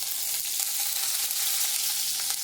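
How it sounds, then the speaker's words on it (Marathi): Cumin seeds and cut chillies sizzling in hot oil in a kadai, a steady, bright, crackling hiss that stays loud and even throughout, with faint popping spatters and no talk. "कढईमध्ये ना आपण आता ना थोडंसं तेल टाकणार आहोत. त्यामध्ये जातील जिरे आणि आपण कट केलेले मिरची"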